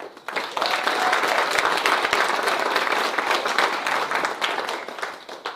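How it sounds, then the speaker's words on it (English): Steady round of applause from people at a council meeting, dense and sustained for several seconds at moderate loudness, with no talk over it. "you also deserve a round of applause"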